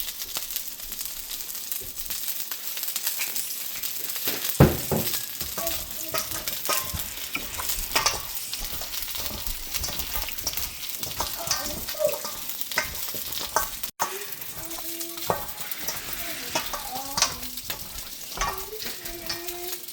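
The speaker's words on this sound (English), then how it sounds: "And then we'll get to the frying process." Chicken back sizzles and crackles steadily in hot oil, with occasional stirring and clinks of utensils, close and fairly quiet.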